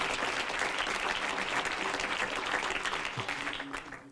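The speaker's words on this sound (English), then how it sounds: "round of applause again." An audience at a board president award presentation gives a steady, dense round of applause, continuous and even for about four seconds before tapering off slightly at the end.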